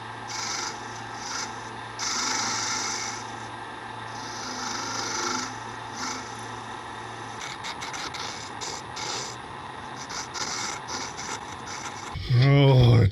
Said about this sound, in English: I'm going to sand this bit.